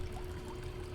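Water is poured steadily during a gold prospecting clean-up, a faint continuous trickle and splash over low background noise.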